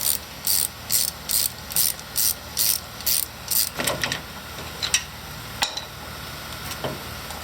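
A ratchet with a 14 mm socket on a six-inch extension loosens a brake line on a 1997 Ford F350 Power Stroke, about nine rapid, evenly spaced clicking bursts, then a few scattered metallic clunks and taps nearby.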